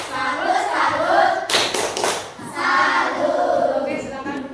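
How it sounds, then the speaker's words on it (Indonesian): Classroom group doing a rhythmic 'tepuk salut' clap cheer for group 4: bursts of hand claps in a patterned beat, mixed with children's chanting voices nearby. "Oke, kita kasih tepuk salut untuk kelompok 4."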